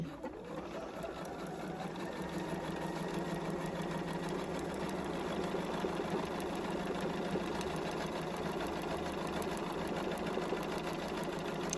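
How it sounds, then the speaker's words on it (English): A sewing machine runs steadily, stitching a straight seam through fabric on a foundation paper-pieced holiday tree block, its even mechanical whir continuous and close with no talking. "I'm going to take this to my machine and then sew straight down"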